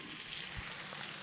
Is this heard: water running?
no